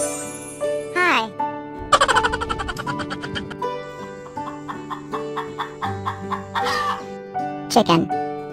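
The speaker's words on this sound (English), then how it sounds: "C-H-I-C-K-E-N, chicken." Chicken clucks come in a quick run of short repeated notes, with a few squawks and a crow-like call, loud and close over steady music and a voice.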